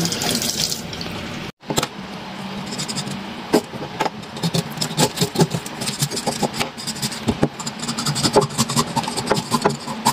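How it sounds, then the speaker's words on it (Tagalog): A mudfish is scaled by hand at a kitchen sink with water running, giving busy rasping scrapes in uneven bursts over a steady trickle and splash. "lilinisan muna natin. Kakaliskisan muna natin."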